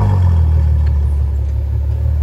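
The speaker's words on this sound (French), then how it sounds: "Démarrage de la GTC 4." Ferrari GTC4 engine running just after startup, a loud, close, steady low rumble with no talking.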